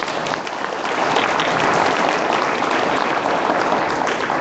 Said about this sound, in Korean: 고맙다고 박수 한번 쳐주세요